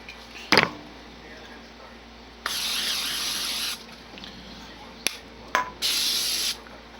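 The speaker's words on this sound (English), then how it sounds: "Spray it down a little bit." Cooking spray hisses onto a pie plate in short bursts, one longer spray of about a second, then two brief ones, with a faint tap or clatter beforehand; no talking.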